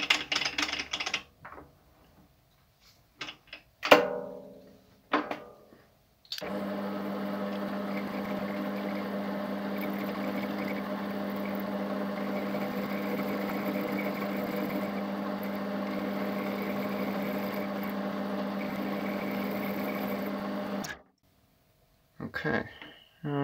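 Metal lathe turning a homemade brass ring to true its outside round, a steady whirring machine hum with a constant tone running for about fifteen seconds, preceded by brief clanks and handling noises and ending abruptly.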